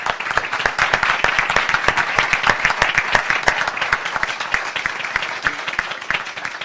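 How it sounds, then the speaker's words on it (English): Applause from a panel meeting audience on rule of law, crisp individual claps dense and close at first, then gradually thinning toward the end. "Round of applause."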